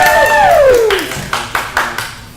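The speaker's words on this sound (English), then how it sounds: "Can I get my crew to give me a brief round of applause here" A small crew gives a brief round of applause at a Halloween VR livestream, starting with a few separate claps and then a short burst of near clapping after a voice that falls in pitch.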